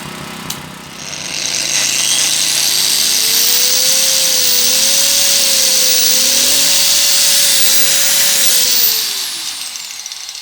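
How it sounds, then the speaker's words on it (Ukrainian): An angle grinder powered by a Zipper 1100 generator whines loudly and steadily for several seconds, pitch wavering slightly as it bites, then winds down as it stalls at the end. "Болгарка."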